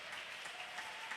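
A church congregation applauds in a brief, continuous wash of dense clapping, steady and somewhat distant, with no voices standing out.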